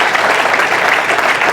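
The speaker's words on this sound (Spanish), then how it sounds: "dale un aplauso al que vive y reina" Applause from a church congregation during a Spanish-language sermon, a steady dense clapping that fills the space without a break for the whole moment.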